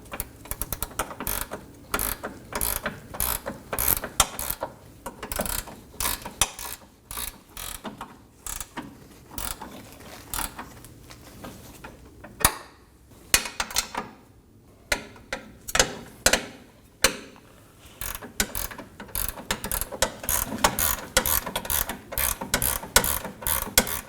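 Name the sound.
ratchet wrench tightening 15mm nuts on Nissan Maxima sway bar link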